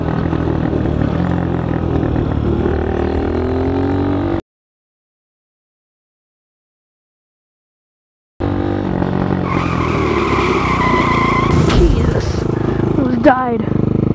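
Tires skid and squeal as a car slides in a racing video game, engine noise running before a gap of silence, then more skidding with sharp screeches and a crash-like burst near the end, with voices talking over the game audio.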